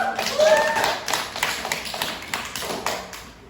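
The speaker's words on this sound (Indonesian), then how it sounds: "Beri aplaus dulu untuk diri." A classroom group claps together in a lively round of applause, close and steady, gradually thinning out toward the end.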